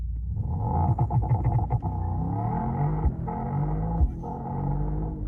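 A Mercedes-AMG GT 63 S E-Performance hybrid V8 makes a launch-control start, a close, loud engine roar with rapid revving and quick upshifts rising through the gears, then a steady pull.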